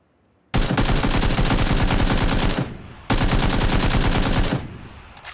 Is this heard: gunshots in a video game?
yes